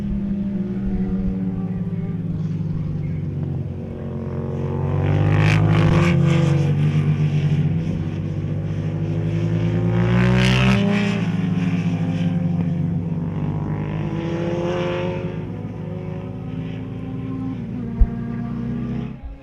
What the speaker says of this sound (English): on the longer straight with a little bit of extra tarmac to play with, Mike McSkimming might use that to his advan